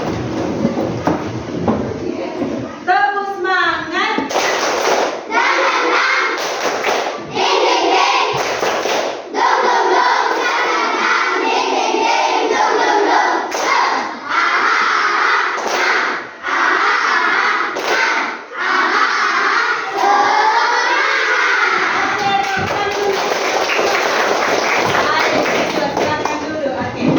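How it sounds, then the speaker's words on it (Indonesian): A classroom of standing pupils performs a rhythmic spirit clap routine, repeated bursts of hand claps and thumps in patterned sequences, loud and close, with children's voices and the teacher's speech mixed in throughout. "Tepuk semangat."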